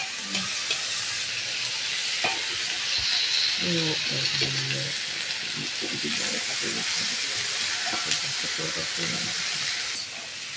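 Chopped garlic, ginger and chili fry with tomato puree in a pan for banana-flower bora, making a steady bright sizzle and hiss while someone talks over it.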